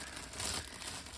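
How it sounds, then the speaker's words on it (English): A plastic Ziploc sandwich bag holding seeds and damp sand crinkles close by in a steady, soft rustle that swells briefly midway, with no talking. "And I'm going to put them in my Ziploc sandwich bag."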